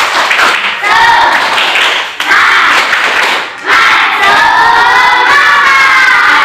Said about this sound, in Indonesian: Tepuk semangat dulu buat kalian semuanya